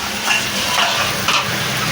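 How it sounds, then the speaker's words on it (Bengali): Banana flower and potato frying together in oil in a pan, a close, steady sizzle with soft scraping strokes of stirring. "ভালো করে নেড়ে চেড়ে নেবো, একটু নেড়ে চেড়ে নিলাম"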